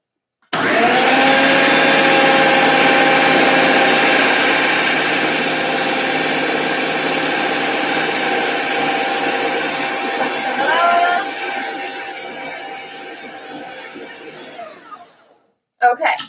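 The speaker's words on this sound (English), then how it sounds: "I'm going to put it back in the blender. And I'm really going to mix it well." A blender mixing chocolate tart filling whirs loudly and steadily up close for about fifteen seconds, its motor pitch wavering slightly before it winds down and stops.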